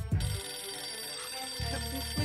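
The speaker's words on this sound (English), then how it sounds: "What is this phone ringing?" A telephone rings steadily with a bright, sustained electronic tone, fairly quiet and alone, filling the short moment without any voices.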